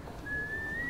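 A single sustained whistled note from a teaser's music enters after a brief moment and holds steady, fairly quiet, with no talking over it.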